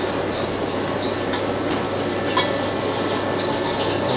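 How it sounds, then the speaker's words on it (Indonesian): Garlic sautéing in a hot pan as the start of a sauce, with a close, continuous sizzle and a few light stirring scrapes. "Tumis dulu."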